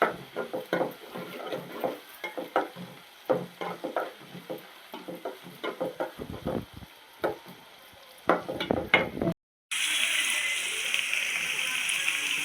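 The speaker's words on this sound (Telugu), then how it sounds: "ఉల్లిపాయతో పాటు కొత్తిమీర కూడా వేసి కూరకి కొత్తిమీర ఫ్లేవర్ పడుతుంది" Onion and coriander frying for a curry, with a rapid series of stirring scrapes and clatters over a soft sizzle, close by, followed by a brief gap and then a louder, steady frying hiss.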